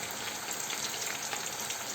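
Pumpkin pieces frying in a pan of oil, a steady soft sizzling crackle with no talking.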